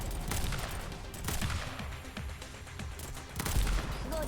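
A giant laser cannon fires in the video game Girls' Frontline, a dense, rumbling barrage of rapid blasts that surges and swells over a few seconds, loud and continuous with a heavier burst near the end.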